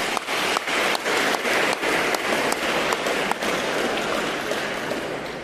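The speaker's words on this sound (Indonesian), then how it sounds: "Yuk tepuk tangan untuk gereja kita ya" Congregation clapping inside a Catholic church during Sunday Mass in Wonogiri: loud, dense, rain-like applause from many hands that holds steady, then eases slightly at the end.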